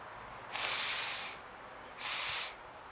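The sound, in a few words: person blowing their nose into a tissue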